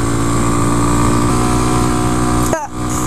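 A 2014 Honda Grom motorcycle engine holds a loud, steady buzzing drone in low gear, then the revs swoop and drop sharply near the end, with a rider's voice mixed in.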